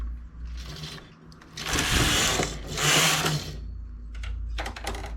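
A domestic knitting machine carriage is pushed across the needle bed for two rows of striped knitting, making two loud rattling, whirring sweeps one after the other over a steady low hum.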